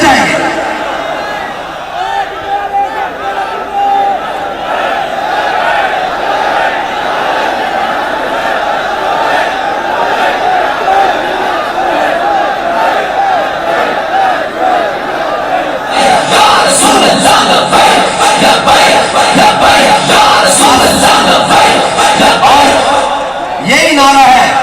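A large crowd at a Tehreek-e-Labbaik political-religious conference in Jalalpur Jattan, Gujrat, chants a religious slogan, massed voices roaring continuously and swelling louder near the end, with amplified speech mixed in.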